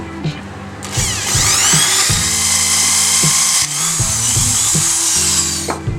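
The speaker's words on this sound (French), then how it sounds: "Alors je vais maintenant faire un trou pour le perchoir." A power drill bores a hole for the perch in a beech wood birdhouse, a loud high whine with rising pitch sweeps, steady for several seconds up close, with short mechanical thumps at start and end.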